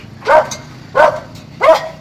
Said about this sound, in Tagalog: May aso sila dito.